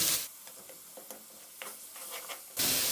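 Tomatoes frying in a pan for aloo gobi: a soft, low sizzle with light scattered ticks of spatula contact, quiet and close, bracketed by louder noise at the start and end.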